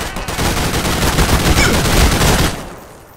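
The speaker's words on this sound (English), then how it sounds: "I hear a lot of shooting." Rapid automatic gunfire in Garry's Mod roleplay, a dense loud burst of overlapping shots lasting a few seconds before tapering off.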